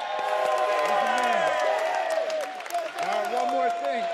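A large crowd at a UFC event in Las Vegas claps and cheers continuously, with whoops rising over sustained applause and a sound system humming underneath.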